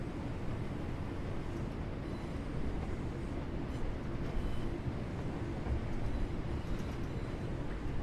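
Steady low rumble of a train running through a station platform in Train Sim World 3, on the Manchester Hadfield and Glossop line, continuous and fairly even with a slight swell midway, no voices.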